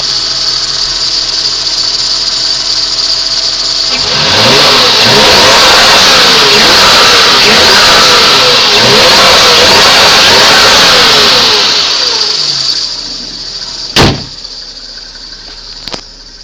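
A 1996 Toyota Cresta JZX90 engine, heard from the engine bay, idles, then revs up hard and holds at high speed for several seconds before dropping back, followed by a couple of sharp clicks.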